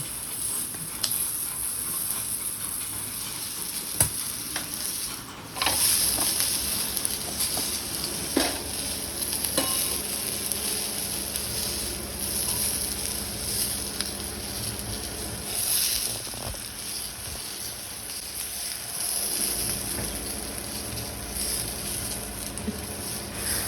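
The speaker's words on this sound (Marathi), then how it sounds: "या मिरच्या फ्राय करून घेत आहे।" Stuffed green chillies frying in oil on a pan give a soft, continuous sizzling hiss, with a few faint clinks scattered through and no speech.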